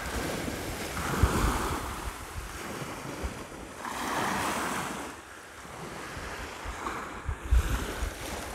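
Sea waves surge and wash in slow, repeating swells, mixed with gusty wind buffeting the microphone.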